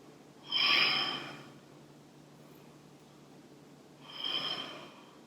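Two slow, audible breaths during a held yoga pose, each a drawn-out airy exhale close to the microphone, separated by a few seconds of quiet room noise.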